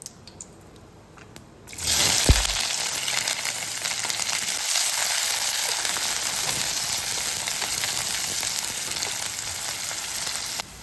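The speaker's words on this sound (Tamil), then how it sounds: "வெங்காயம் ஓரளவு வதங்கிச்சு" Onions hit hot oil in a pot, with a clunk followed by a sudden loud burst of sizzling that settles into a dense, continuous hiss of sautéing, close up and with no talking.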